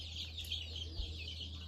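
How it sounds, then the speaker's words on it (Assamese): Chicken chicks and hens cluck and peep softly at fairly close range in a brief, quiet moment, with a low steady hum underneath. "ইয়াতে আছে মুৰ্গীৰ পোৱালি"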